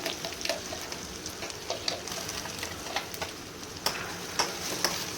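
Ingredients for a ridge gourd chutney sizzle gently in a pan over a low flame, a steady soft crackle with scattered brighter pops throughout, close and alone.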